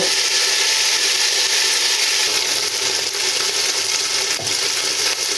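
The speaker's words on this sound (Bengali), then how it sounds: "আলু আমি কিউব করে কেটে নিয়েছি দিয়ে দু তিন মিনিট কষিয়ে নেব" Cubed potatoes sauté in hot oil in a pan for chicken samosa filling, giving a loud, continuous sizzle close by with a brief clink partway through and no talking.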